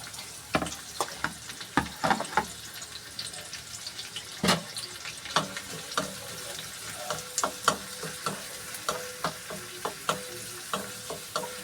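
Chopped onion and finely cut curry leaves frying in a pan, stirred with sharp scraping clicks and taps over a soft sizzle, close and steady with no talking.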